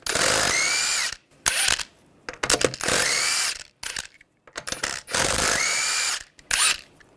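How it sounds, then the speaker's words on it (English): Impact tool spinning off 21mm lug nuts on a 2011-2017 Nissan Juke front wheel: three long loud whirring bursts, each followed by short ratcheting clatters and pauses, close by. "use a 21mm socket, take the lug nuts off"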